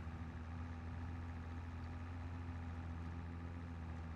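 A tractor engine idles in Farming Simulator 22, a steady low diesel hum with an even, unbroken drone from start to finish and no talking over it.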